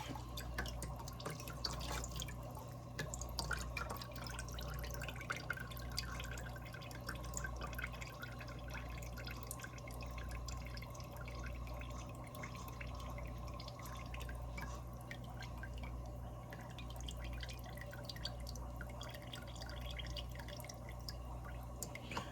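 Washed collard greens shaken and left to drain, water dripping steadily off the leaves in a kitchen setting, a soft continuous trickle with no talk over it.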